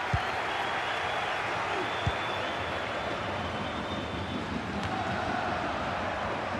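A video game stadium crowd in a FIFA 23 match cheers and applauds in a steady, dense roar that holds at an even level throughout.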